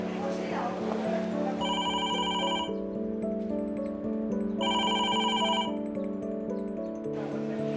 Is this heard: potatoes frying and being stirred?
no